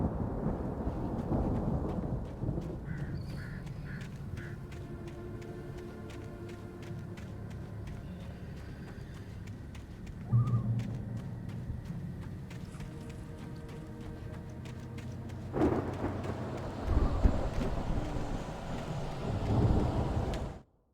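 Thunderstorm in the video game Alan Wake: steady rain hissing over deep rolling thunder, with heavy rumbling bursts near the start, midway and near the end, all without speech.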